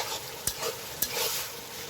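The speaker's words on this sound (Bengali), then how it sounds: "এবার রসুনটা একটু পেঁয়াজের সাথে নেড়ে চেড়ে নেব।" Garlic paste being stirred into fried onions in a pan, with a soft steady sizzle and two sharp spoon scrapes against the pan, close and clear, no talk.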